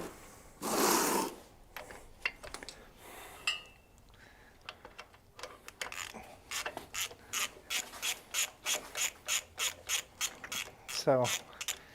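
Wrench ratcheting off nuts on a 1957 BMW Isetta, a run of evenly spaced close metallic clicks in quick succession after a few scattered clanks and scrapes, with a short rising squeak at the end.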